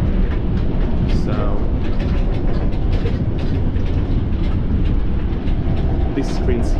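A Heathrow Express train rumbles steadily along the rails, a constant low roar with faint rattles and clicks, heard from inside a carriage.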